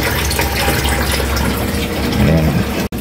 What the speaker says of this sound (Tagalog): natapos na natin mag-refill ng tubig dito